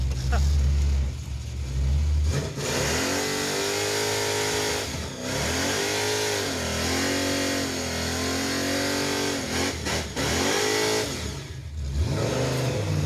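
A fuel-injected Impala engine runs and revs repeatedly, rising and falling in pitch, close and fairly loud, with voices talking over it at times.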